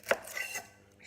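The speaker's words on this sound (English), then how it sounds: "I'm going to chop up 2" A knife chopping shallots on a cutting board, a couple of quick, close, faint cuts in a short burst.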